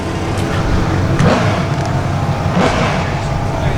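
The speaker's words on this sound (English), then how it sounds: "I love these diesels." Diesel vehicles at a drag strip, a loud rumbling engine drone with a couple of surging passes, close, while voices are faintly present beneath.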